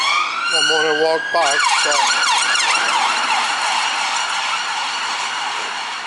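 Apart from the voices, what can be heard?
police car sirens passing in the city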